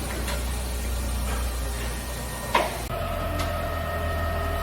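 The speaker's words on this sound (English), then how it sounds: "Then we'll grab our overhead crane" An overhead crane in a pump shop hums steadily as it starts to lift a close-coupled pump, with a clunk midway and a continuous mechanical whine afterward.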